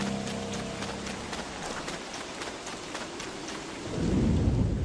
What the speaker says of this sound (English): I really wish the rain would stop